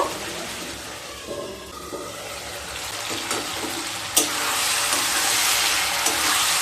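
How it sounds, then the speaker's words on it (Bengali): Snake gourd pieces sautéing with spices in a covered pan, a steady sizzling hiss with occasional soft spatula knocks and scrapes, the frying growing brighter and louder after a sharp clack partway through. "মিশিয়ে নিয়ে আবারও ঢাকা দিয়ে 1 মিনিট ভালোভাবে কষিয়ে নেব।"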